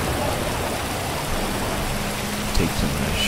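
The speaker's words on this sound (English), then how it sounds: "It's raining outside" Steady rain falls outside a modern wood house, a dense, even hiss that stays close and constant throughout, with a faint low rumble at one point and no voices.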